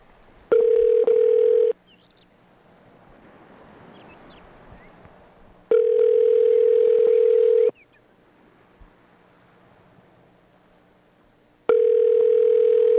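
Telephone call ringing out: a steady electronic ring tone sounds in three long bursts separated by silent gaps, close and clear with no voices.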